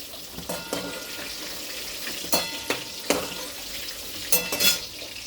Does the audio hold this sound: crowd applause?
no